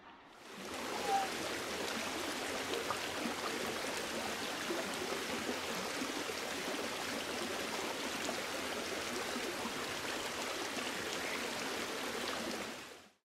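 A small stream rushes steadily beside a swimming hole in a state park woodland, a continuous broadband babble of flowing water close by with no talking.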